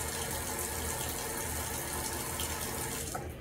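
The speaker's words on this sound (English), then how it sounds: "I'm gonna put some water on it" Water poured steadily onto a child's hair during a hair wash, a continuous close splashing rush lasting about three seconds before easing at the end, with no voices.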